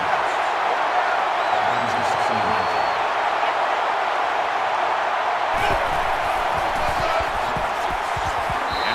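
A loud stadium crowd at an American football game roars steadily as a dense, continuous din, with a commentator talking over it and some low thumping and movement entering in the latter part.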